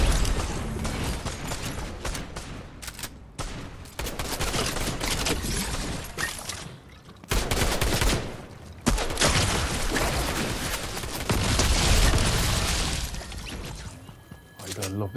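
Weapon fire in Fortnite, a busy stretch of dense, loud shots and mechanical clatter running through most of the scene with a couple of brief gaps, with a player talking over it.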